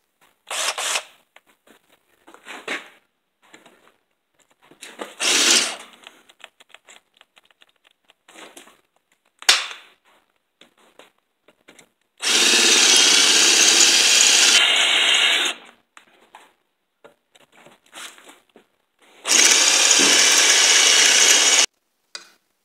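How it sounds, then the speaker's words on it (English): A power drill runs in two loud, steady bursts of about three seconds each during the rebuild of a Hirth 634cc snowmobile engine, between quieter clicks and clatter of parts being handled. "I just have to get a drill and I can get it out"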